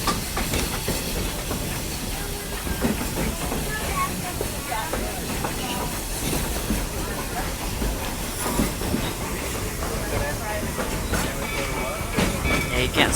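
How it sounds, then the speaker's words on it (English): The Walt Disney World Railroad train rolls along with a continuous rumbling clatter and hiss, while voices talk over the running noise throughout. "thanks for traveling with us on the Walt Disney World Railroad"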